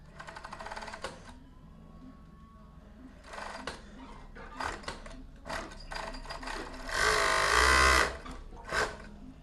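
A domestic sewing machine closes a small opening left in a seam on a garment, running in short bursts with a long, loud stretch of whirring stitching near the end, close by.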